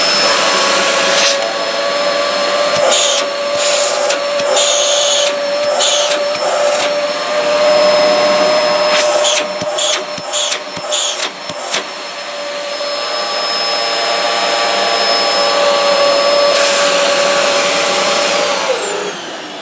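A Dyson DC07 or DC04 upright vacuum cleaner with a noisy motor runs loudly and close up, a steady high whine broken by several brief bursts and fluctuations before it winds down.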